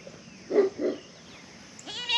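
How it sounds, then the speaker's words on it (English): Two short barks sound from a distance, quickly one after the other, followed by quiet background noise. "Hear Rocky over there barking"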